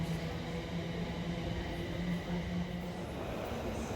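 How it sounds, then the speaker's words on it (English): A mainline train rumbles past at Queen's Park station, a steady loud roar with a low hum and faint rail clatter throughout. "looking at mainline trains passing by"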